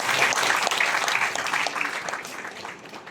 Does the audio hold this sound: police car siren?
no